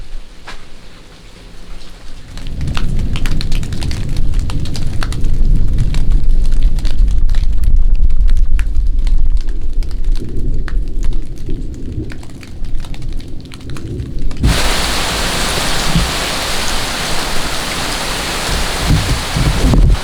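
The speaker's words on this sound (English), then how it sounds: "It is starting to rain now." Heavy rain starts during a tornado storm in Oklahoma, with a deep, rumbling wash of wind and downpour building after a quiet opening, then turning into a bright, hissing spray for the final few seconds.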